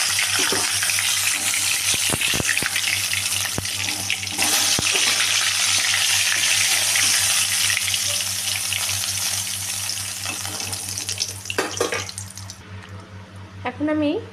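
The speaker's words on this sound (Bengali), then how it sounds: "মাছটা আমার ভাজা হয়ে গেছে" Bhola fish fries in hot oil in a home kitchen, a loud continuous sizzle with occasional clinks and stirring scrapes, easing off toward the end while a person talks.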